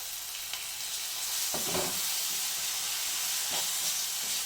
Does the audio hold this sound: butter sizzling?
yes